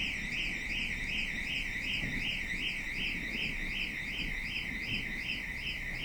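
A TM4500 negative pressure membrane press machine sounds its completion alarm, a loud warbling electronic tone that rises and falls in rapid, regular cycles over a low mechanical hum.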